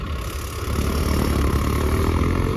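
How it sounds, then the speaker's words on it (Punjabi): A tractor engine drones loudly and steadily while driving over wheat silage to press it down, swelling slightly after the first half-second and then holding an even, rumbling tone. "ਇਸ ਤਰ੍ਹਾਂ ਇਹਦੀ ਤਵਾਈ ਕਰਨੀ ਪੈਂਦੀ ਆ ਸਾਨੂੰ ਟਰੈਕਟਰ ਦੇ ਨਾਲ"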